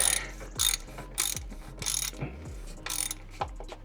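A socket ratchet tightens a part during an oil change on a 2005–2008 Porsche Cayman 987.1, heard as close, bursty rapid clicking strokes repeated several times with short pauses.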